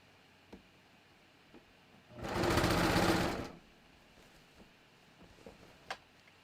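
A sewing machine stitches a bathrobe shoulder seam in one loud, continuous whirring burst of about a second and a half, set between quiet stretches with faint scattered clicks.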